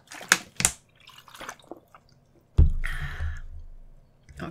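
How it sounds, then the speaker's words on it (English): A person takes a sip of water indoors: a couple of sharp clicks of a cup, then a soft, drawn-out swallowing gulp, close and fairly loud, with no talk. "I have to get a sip of water."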